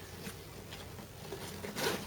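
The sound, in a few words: zipper on a SOG Ninja Day Pack backpack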